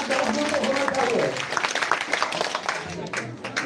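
Audience applause at a Vikas Coaching Centre award ceremony, a dense burst of clapping that is loud at first and then thins out and fades toward the end.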